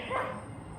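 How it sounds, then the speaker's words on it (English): A neighbor's dog gives a single short bark or yip, muffled and distant, heard alone over steady background noise. "Neighbor's dog."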